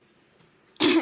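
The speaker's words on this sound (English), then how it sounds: "Coughing like an idiot." A single cough bursts out loud and close near the end, following a stretch of quiet room tone.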